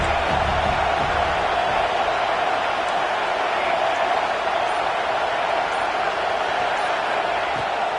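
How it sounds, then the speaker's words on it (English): Steady roar of a large stadium crowd at a college bowl game, a dense wall of noise holding constant for the whole stretch with no distinct cheers standing out. "This crowd going to try to make life miserable for these guys"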